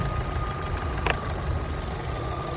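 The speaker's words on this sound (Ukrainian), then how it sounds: "Двигун працює швейцарський годинник." A 2009 Opel Astra with a 1.6 petrol engine idles steadily, giving a continuous low hum with one brief click partway through. No voices are heard.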